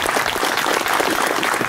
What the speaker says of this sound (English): Let's give him a warm Danish welcome applause.